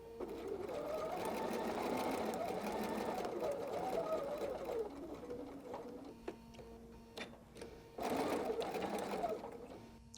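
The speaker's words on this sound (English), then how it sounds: "I'm going to sew up to that and do a back stitch" A domestic sewing machine runs a steady seam with a brief back stitch while binding a 60 degree diamond quilted table topper, the close whirring hum pausing near the middle and resuming strongly at the end, no talk.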